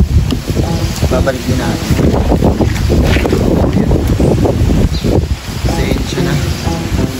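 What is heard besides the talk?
strong wind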